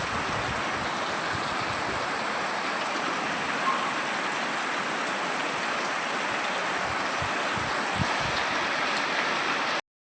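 Heavy rain pours over a village under dark storm skies, a dense, steady hiss and roar that holds even throughout, close and loud, with no voices.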